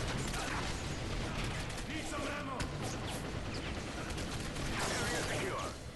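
Gunfire in the tactical shooter MARS: Special Operations on the Submarine Strike map: dense, continuous bursts of shots and clattering mechanical impacts, loud and close, with a voice talking over them.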